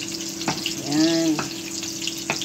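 Garlic fries in a pan with a close, steady sizzle, broken by a brief clatter and a short swell of louder bubbling.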